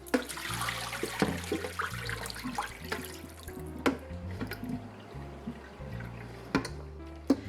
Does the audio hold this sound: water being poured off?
yes